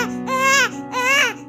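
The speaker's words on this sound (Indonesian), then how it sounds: "Tangisan bayi kembali bergema di tengah hutan gelap gulita." A baby crying in a dark forest: two loud, close wailing cries separated by a short breath, each rising and falling in pitch.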